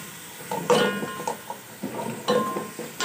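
Beef trotters stir-fried with garlic in a pot, a spoon clinking and scraping against the metal in irregular knocks over a faint sizzle, close and fairly quiet, no voices.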